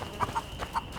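Horse hooves clip-clop in the video game A Plague Tale: Innocence, four or so light, separate knocks over a second at moderate distance against a faint ambient bed.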